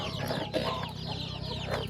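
A desi hen brooding her chicks on a village poultry farm gives soft, steady clucking close by, with faint higher bird chirps scattered over it and no talk.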